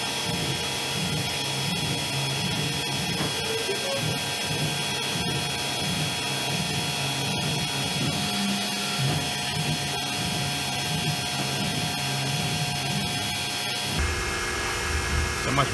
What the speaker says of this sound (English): Now we're going to tap drill for the 5/16.